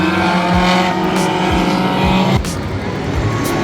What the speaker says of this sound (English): This is the figure 8 racing.